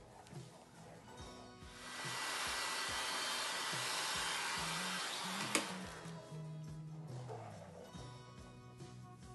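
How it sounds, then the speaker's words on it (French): A hair dryer on a low setting blows with a soft, steady whoosh over poured acrylic paint for several seconds before switching off, with quiet background talk and music around it. "Je viens recouvrir avec le souffle pas trop fort du sèche-cheveux, tout en douceur."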